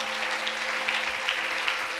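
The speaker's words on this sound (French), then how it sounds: "Est-ce qu'on peut acclamer pour le Seigneur?" A church congregation applauds together, a steady wash of many hands clapping at moderate volume, continuous for the whole stretch with no voices standing out.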